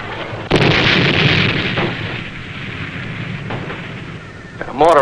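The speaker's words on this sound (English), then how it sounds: "mortar on us, Lou." Mortar shells exploding close by in a war film, a heavy blast followed by sustained rumbling roar and debris, with a second sharp burst near the end, loud and dense throughout.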